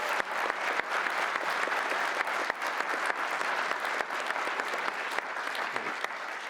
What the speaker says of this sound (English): Please give him, all of the team,